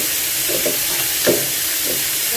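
Onions fry in a pan, giving a steady close hiss of sizzling oil with a few soft stirring bumps through the short stretch.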